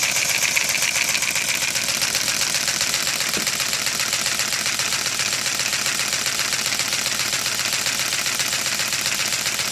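A small air-driven Lego engine with direct valve operation and no valve springs runs steadily with a rapid, even clattering tick and a constant airy hiss, close by and unchanging throughout.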